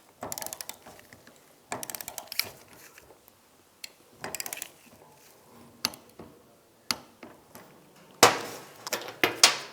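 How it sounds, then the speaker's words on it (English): A torque wrench or ratchet clicking in short bursts while tightening a nut on a 2004-2010 BMW X3 shock absorber, with close metallic ratcheting clusters separated by pauses. "Then we're going to torque the nut to 10 foot-pounds."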